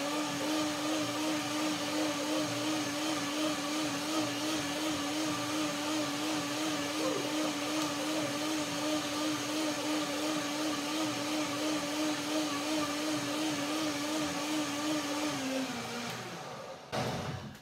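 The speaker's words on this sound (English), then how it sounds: "Blender dance number two." A blender whirs steadily, blending fruit for a berry and stone fruit salad. The motor runs loud and continuous with a droning pitch that dips slightly, then cuts off at the end.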